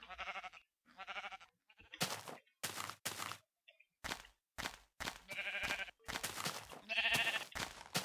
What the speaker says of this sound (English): Dang you sheep.